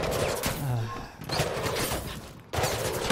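Bursts of enemy gunfire in Mirror's Edge Catalyst, rapid automatic shots crackling in two or three volleys with brief gaps, mixed with game noise and a voice talking over it.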